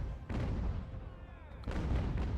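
Cannons firing in the strategy video game Ultimate General: American Revolution during an assault on an enemy fort, with deep rumbling booms and a sustained low roar that swells again toward the end.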